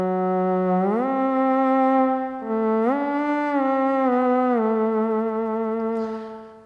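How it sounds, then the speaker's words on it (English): Haken Continuum synth voice blending a low-pass filtered oscillator with bandpassed noise, a sustained stringy tone that slides up and down between held pitches, steady and alone. "here's the sound of the oscillator going through the low-pass filter and the noise going through the bandpass"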